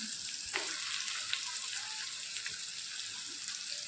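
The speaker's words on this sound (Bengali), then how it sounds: "পেঁয়াজগুলো ভালো করে ভাজা ভাজা মতো হয়ে যাবে" Onions and chopped garlic fry in a pan with a soft, continuous sizzle and a few faint scrapes of stirring, fairly quiet and close with no voices.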